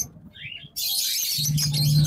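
Lovebirds at a busy bird market, first with a few faint high calls and then, from under a second in, a loud, continuous wash of overlapping chirping and twittering with a low hum beneath.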